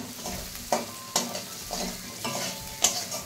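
A spatula scrapes and stirs food in a sizzling pan while a fish curry and vegetables are cooked in a home kitchen, with repeated sharp scraping strokes over a steady soft frying hiss.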